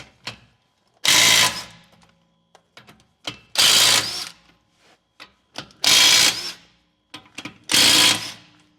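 Ratchet wrench loosening nuts on a 2004 Dodge Ram 2500 Hemi pickup, four loud bursts of rapid clicking, each about a second long, separated by quiet pauses with faint tool clinks, close up and without talking.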